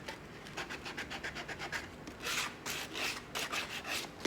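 Sandpaper of 80 grit rubs a wooden float clamped in a vise, a close, rhythmic rasping of quick back-and-forth strokes that grows broader and louder in the second half.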